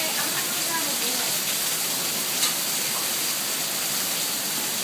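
Hail pelting a car during a North Las Vegas hail storm: a dense, loud, continuous hiss and patter that stays close and steady for the whole stretch, with no pauses.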